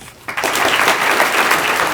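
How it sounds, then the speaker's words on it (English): Applause breaks out at a graduation commencement ceremony, starting abruptly and then holding as a dense, steady crowd of clapping hands filling a large space until the end. "Please hold your applause until each student is properly introduced."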